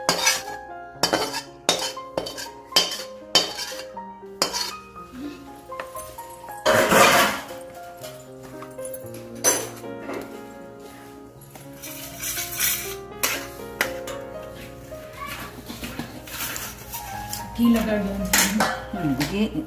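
A metal spoon stirring methi pak mixture in a kadai, producing repeated clinks and scrapes against the pan in irregular bursts, with a few louder clatters and faint voices in the background.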